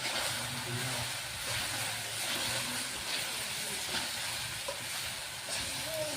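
Sugar being stirred a little at a time into a jujube (kul) pickle in a cooking pan, giving a steady close hiss and sizzle with faint scraping throughout and no speech.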